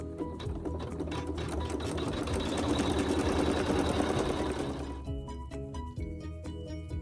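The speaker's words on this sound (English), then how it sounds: "you're going to sew the satin stitches" An embroidery machine sewing satin stitches on fabric, a fast rhythmic mechanical chatter that runs steadily and swells slightly, then shifts to sparser clicking stitches near the end, close and alone.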